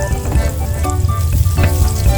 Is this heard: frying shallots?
yes